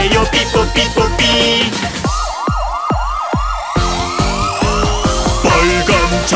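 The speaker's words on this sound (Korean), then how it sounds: "아픈 사람 탔으니까 삐뽀 삐뽀 병원으로 가야 해요" An ambulance siren sounds within a children's song about vehicles, a repeating two-tone wail over bouncy musical accompaniment.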